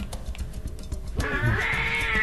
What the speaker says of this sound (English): Oh boy. It was a cat!